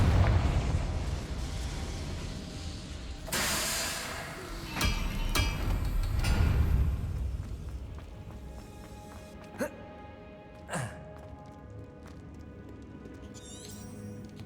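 Confringo fire spells blast in the video game Hogwarts Legacy, a few loud bursting explosions with rumbling decay and then sharper pops further off, while a person talks over the action.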